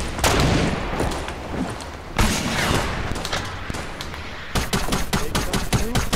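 Gunfire in a large 50-versus-50 multiplayer shooter game: dense machine-gun bursts and rapid sharp shots throughout, loud and close, ending in a quick string of distinct cracks, with no talking.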